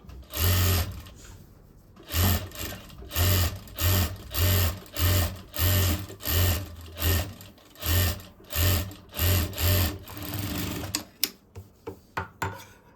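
A sewing machine stitches along a blouse edge in a series of about ten short, evenly spaced bursts of close, loud whirring, then finishes with several quick clicks.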